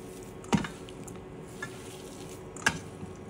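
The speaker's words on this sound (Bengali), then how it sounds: "এখন মাছটা দিয়ে মাখিয়ে নেব সব কিছু।" Shutki fish bharta being mixed by hand, with soft, quiet squishing and stirring and two sharper brief clicks about two seconds apart. No one speaks.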